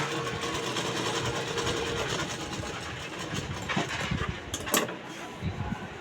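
A sewing machine stitching the lining of a princess-cut blouse makes a steady, close mechanical whirr with a rapid needle clatter that slows and stutters toward the end; nobody speaks.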